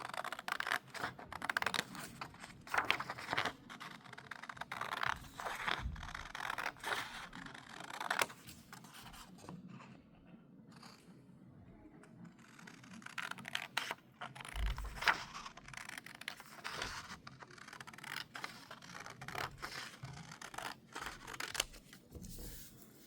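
Scissors snip repeatedly through paper to cut strips for a paper orb, a close, quiet run of crisp cuts and rustling with short pauses between bursts.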